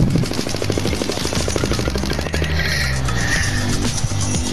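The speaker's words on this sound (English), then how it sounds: "I hear some gunshots" Continuous rapid gunfire in Fortnite crackles throughout, dense bursts of shots layered over a busy, synthetic-sounding game mix.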